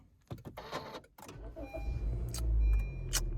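A car engine is started by push button, with a few clicks first and then a low engine rumble that swells near the end, faint and close.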